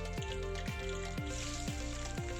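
Mashed garlic, two cloves, frying in half a cup of hot oil in a pan, giving a steady soft sizzle with a few faint clinks, no talk.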